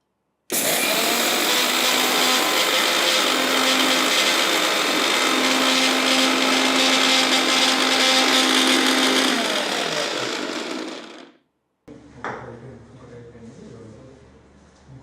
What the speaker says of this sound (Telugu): దీనికి కావాల్సింది మనకు ఒక చిన్న మిక్సీలో వేసి మనం దీన్ని పౌడర్ చేసుకుందాం